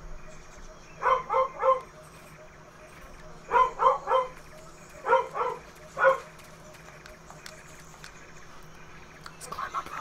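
Four short clusters of barking from a dog in Metal Gear Solid 3: Snake Eater, moderately loud over a low steady game hum, with gaps between bursts and a faint fifth burst near the end.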